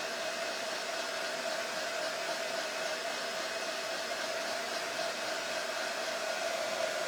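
A hair dryer blowing steadily during a salon blow-dry, a constant close whooshing roar with an even pitch that runs the whole time without pause and with no one speaking.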